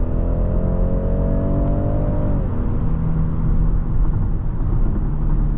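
2023 BMW X3 30e with a 2-liter turbocharged hybrid engine, driven with a loud steady engine drone and tire and road rumble heard from inside the cabin; the engine tone slides down partway through, as in an upshift or easing off.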